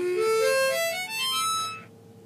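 Hohner Blues Band harmonica played on draw notes, a bright reedy tone sliding steadily upward through the holes for about two seconds, close and fairly loud, then stopping abruptly.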